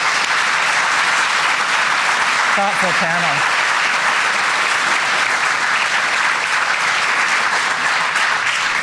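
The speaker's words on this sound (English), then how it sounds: "I'd like to give a round of applause to this incredibly" Audience applause for a panel at an evening organization event, steady dense clapping filling the whole stretch, with a brief voice speaking over it early on.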